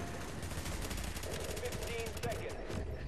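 Rapid automatic gunfire in The Division's Dark Zone, dense repeated shots in quick bursts throughout, loud and close, with voices talking over the shooting.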